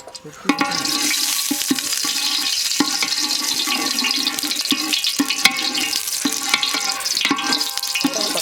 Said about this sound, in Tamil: சுத்தமான நல்லெண்ணெய் ஊற்ற போகிறோம். நல்லா ஊற்றிடணும்.